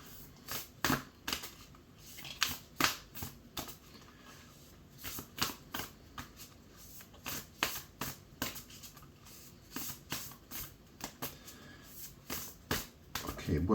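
Tarot cards are shuffled by hand, a long run of crisp riffling bursts and soft slaps repeating irregularly at close range, with faint talk in the background.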